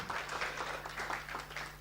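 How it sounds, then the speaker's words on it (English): Brief applause from a stakeholder conference audience: a steady patter of many hands clapping at moderate distance, fairly soft and even for under two seconds. "A round of applause for Braden."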